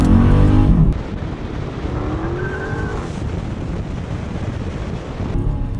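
A Dodge Challenger Scat Pack accelerates hard in second gear around 4,000 RPM at about 40 mph with stock tires spinning, a loud continuous engine roar with wind rush and tire noise throughout.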